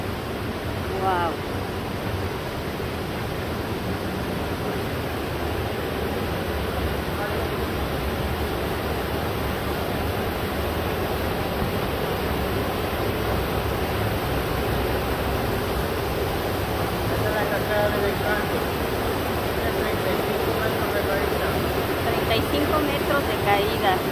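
Steady broadband roar of water pouring into a canyon at Cascada El Encanto, a dense constant rush filling the scene for the whole stretch, with faint voices now and then beneath it.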